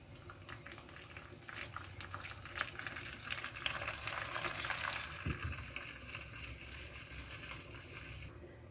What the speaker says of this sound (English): When the rice is warmed, we add the mixture of melted butter and water.